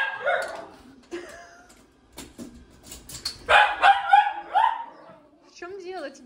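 A dog indoors gives several short barks and yips with some whimpering, mixed in with a person talking nearby.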